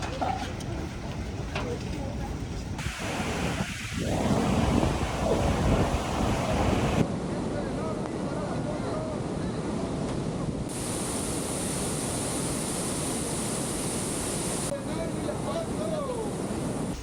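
Constant rushing water noise, like falling spray or heavy drizzle, from waterfall spray and rain at Iguazu Falls, with gusts of wind buffeting the microphone throughout.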